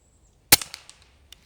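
Umarex Notos PCP air rifle firing a single shot outdoors at about 30 yards, a sharp sudden crack followed by a few fading echoes and a faint distant tick of the pellet's impact.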